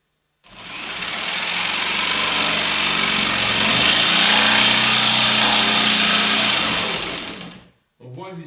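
A jigsaw cuts through a wooden worktop from the underside, a loud steady buzzing drone holding for about seven seconds before stopping abruptly, followed by a brief voice.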